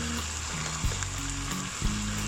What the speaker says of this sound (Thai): ผัดคลุกเขาทั้งหมดนะครับ ให้เข้ากันเลย